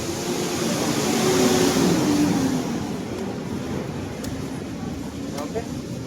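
A Yamaha Nmax 155 scooter engine runs close by as the wheel spins during an ABS bypass job, with a rising whir that peaks and then eases into a steady hum, and a voice talks over it.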